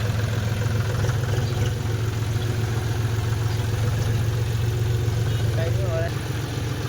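A John Deere diesel tractor engine runs at night in a steady, loud low drone that holds an even level throughout, with no break.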